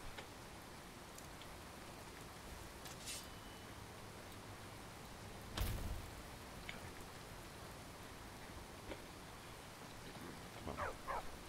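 Steady rain falls in the video game Skyrim, a soft, even hiss of drops with a few brief louder spatters and a faint distant thunder-like thump midway.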